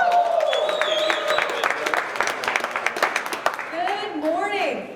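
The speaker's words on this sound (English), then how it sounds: "Let's give them a round of applause for all they do for us." An audience claps at a trucking company's monthly celebration, scattered applause with cheers and voices mixed in, close and fairly loud, tapering near the end.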